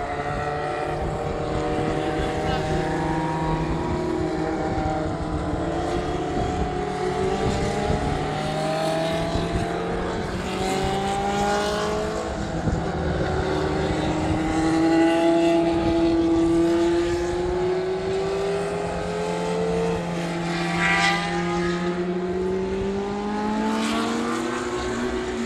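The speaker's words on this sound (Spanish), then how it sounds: "Primeros coches en pista." Historic Formula 1 race cars circulate during a warm-up and qualifying session, their engines droning continuously at mid distance and rising and falling in pitch as they accelerate, shift and pass, with no talking.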